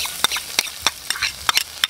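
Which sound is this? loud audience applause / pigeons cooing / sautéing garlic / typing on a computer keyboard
sautéing garlic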